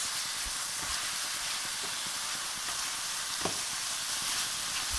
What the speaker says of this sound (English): And into this goes in 6 tomatoes, finely chopped. And saute away for another 4 to 5 minutes.